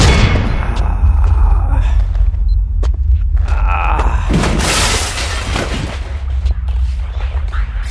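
Dual pistols fire in the video game Max Payne 2, a dense run of loud booming shots and shattering impacts over a heavy rumbling backdrop, with no clear talking.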